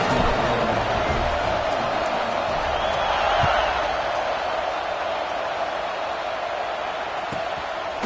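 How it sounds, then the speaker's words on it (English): A stadium crowd at a college football game in the NCAA 26 video game keeps up a loud, steady buzzing roar with faint cheers, with no clear speech over it. "this crowd is buzzing after that last score"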